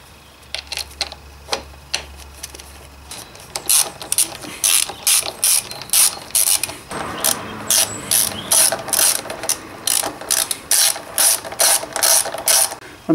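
A ratchet tightens the brake caliper bolts on a Suzuki RF 900 motorcycle, with quick rhythmic clicking bursts repeated in close, bright runs, a few slower clicks first, then steady ratcheting strokes with short pauses.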